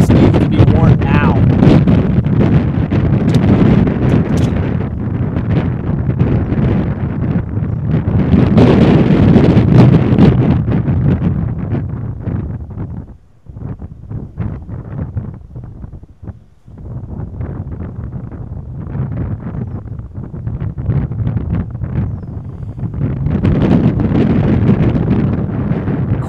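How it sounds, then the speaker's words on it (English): Strong wind during a tornado storm chase roars and buffets the microphone almost without a break. It dips briefly midway, then surges back loud, with voices faintly underneath. "Got wind strong enough to blow off your hat."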